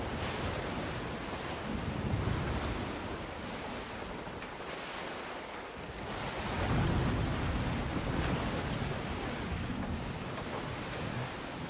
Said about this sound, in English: I like how the water sounds like it's grumbling, like it's angry.